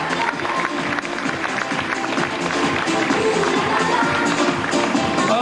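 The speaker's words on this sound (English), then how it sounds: "Let's give a big round of applause to Carol and Maureen." Audience at a 1998 school fashion show at Bandon Grammar, County Cork, Ireland, applauding steadily for the full stretch, a dense wash of claps with some crowd murmur mixed in.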